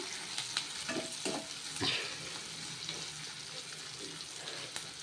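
Oil frying in a pan while egg biryani is being made: a soft, steady sizzle with a few scraping knocks, heard alone.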